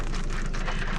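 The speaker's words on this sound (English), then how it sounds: "It just started raining, but I'm sure it will stop soon" Rain drums steadily on a car during a drive, a dense close patter with no pauses across the short moment.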